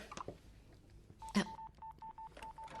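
A telephone number is keyed in: a quick run of eight or so evenly spaced, clear DTMF dial tones, each beep short and steady, following a brief rustle and thump, with no one talking.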